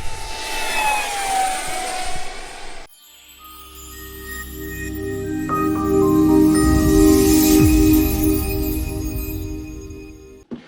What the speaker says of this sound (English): That was the HobbyKing F18 with a 50 mil EDF fan unit running on 4S.